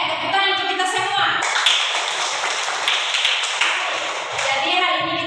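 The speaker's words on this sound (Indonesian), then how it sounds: "tepuk tangan untuk kita semua" A classroom of people claps together in a dense burst of applause lasting a few seconds, with a voice speaking before and after it.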